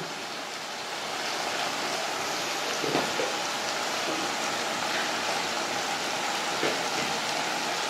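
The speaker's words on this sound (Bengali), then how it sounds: "দেখুন সব মশলা আমি একসাথে ভেজে নেব" Turmeric, cumin and Kashmiri chilli powders frying together in a pan for an egg kosha curry, giving a steady, even sizzle like light rain that holds throughout with no talk.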